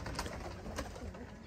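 Pigeons from a Sialkoti teddy pigeon setup coo softly and continuously, low, throaty murmuring with faint repeated pulses against light background noise.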